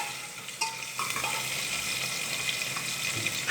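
Coriander leaves frying in hot oil in a pan for halwai-style masale bhat, a steady close sizzle with stirring scrapes running throughout, no talk.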